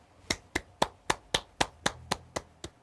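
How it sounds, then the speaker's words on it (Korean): Ten evenly spaced hand claps ring out in a steady rhythm, close and crisp, with no voices over them. "내가 왜 박수를 치지?"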